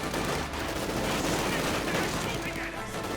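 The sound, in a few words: gunfire in combat, Company of Heroes 2 video game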